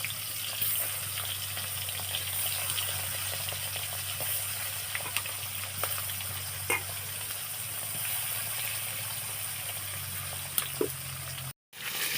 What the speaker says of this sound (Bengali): তেলটা গরম হয়ে গেছে কিন্তু এবারে একে একে মাছগুলো কিন্তু আমি দিয়ে নিচ্ছি।